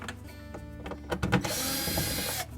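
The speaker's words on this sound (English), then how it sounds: "Next, with our number 20 Torx bit, we'll remove these screws from the filter cover." A Torx bit backs screws out of the filter cover on a Whirlpool dishwasher, a short whirring power-driver burst with clicks, close and fairly loud.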